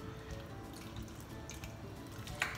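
Water trickles and drips into a bowl of semolina and yogurt batter for dhokla, a quiet steady pour heard close by with no talking.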